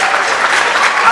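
Crowd at a spring jazz band concert applauding, a brief dense burst of clapping that fills the whole moment at steady loudness.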